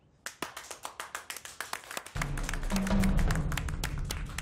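Several sharp, evenly spaced single claps ring out, then give way to a thick burst of continuous group clapping at close range.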